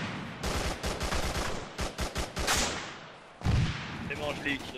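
Rapid gunfire in an Arma III co-op battle, a burst of sharp cracks in quick succession followed by scattered single shots, loud and close, with someone briefly talking near the end.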